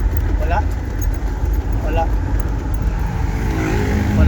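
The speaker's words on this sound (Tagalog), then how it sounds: "Kahit na bombahin ko ng bombahin yung silinyador" Engine of a 2005 Hyundai GRX with low power and no error code, revving as the accelerator is pumped repeatedly; a steady, near engine drone with slight surges, heard under talk.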